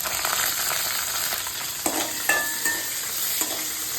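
Cashews and green chillies frying in a pan for coconut rice, a steady close sizzle with a few sharper crackles and stirring scrapes, no voices.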